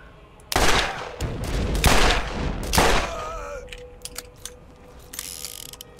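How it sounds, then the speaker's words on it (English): A level 4 Vladoff fire-element machine gun in Borderlands, firing in three long, loud rapid bursts, followed by mechanical clicks and a fading ringing tone. "it's a level 4 Vladoff machine gun with a fire element"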